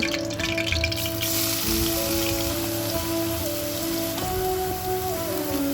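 Onions and bitter gourd sizzling in hot oil while masala is browned for stuffed sweet-and-sour karela, a steady dense crackle and hiss throughout with no voices.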